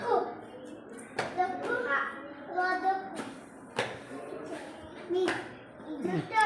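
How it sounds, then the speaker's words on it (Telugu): Children clap in a classroom game, a few sharp bursts of hand claps mixed in with steady children's chatter and a teacher's voice close by. "బాగా ఆడితే క్లాప్స్ కొట్టాలి"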